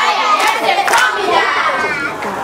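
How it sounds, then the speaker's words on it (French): Children in a studio audience on a kids' television show cheer and shout loudly together, with bursts of clapping, in an energetic roar that is close and continuous. "Acclamez pour les autres, les amis."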